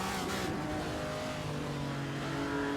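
Ferrari 250 Testa Rossa engine in a racing video game, a steady mechanical drone with rising tonal whine as the car accelerates, continuous and fairly even in loudness without talk.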